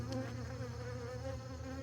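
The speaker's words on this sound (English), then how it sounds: "There's a bee emerging right there." Steady, close buzzing of honeybees on a brood frame during a hive inspection, a dense continuous drone with no pauses and no talk.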